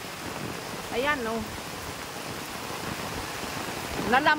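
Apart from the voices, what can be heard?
strong floodwater flowing beside the house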